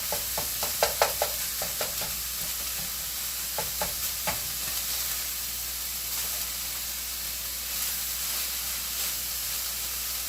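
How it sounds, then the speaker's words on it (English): Bacon frying in a pan on low heat, a steady soft sizzle with a run of sharp crackles and pops early on that thin out, then a continuous hiss alone. "So I want to cook the bacon in this pan so I can save the grease."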